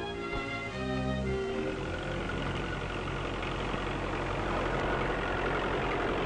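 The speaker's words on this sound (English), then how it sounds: "the replacement of the horse by the tractor for drawing ploughs and cultivators" A tractor engine idles in a steady low rumble, with a brief tonal sound at the start before the even engine drone continues alone.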